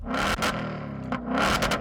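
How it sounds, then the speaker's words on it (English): A Ford Mustang V8 engine roars loudly and continuously as it is revved, with a dense, rumbling growl that swells briefly several times. "Sam, can you just rev up that engine?"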